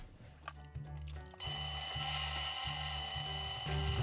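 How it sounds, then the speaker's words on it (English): A power drill boring holes into timber for a wooden smartphone speaker, starting with a few clicks and short bursts, then running steadily with rhythmic surges in load as the bit cuts through the wood, close and loud. "Gabriel's just drilling beside the first hole, slightly overlapping, so there is no timber in between the two"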